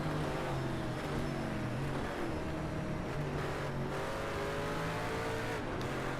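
Rumbling engine of an American muscle car in a racing video game, a steady loud drone with rising and falling revs as it accelerates and shifts, continuous from start to finish.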